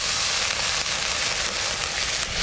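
Water poured into frying masala for a fish curry, giving a loud, dense, steady sizzle and crackle that fills the whole moment, close and continuous with no voices.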